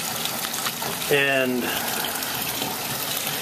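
Water gushes steadily into a tub being filled to test FloodSax flood barriers, a continuous rushing wash under a brief spoken word.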